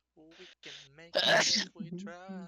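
A single loud sneeze bursts out in the middle of sung or spoken phrases, sharp and close.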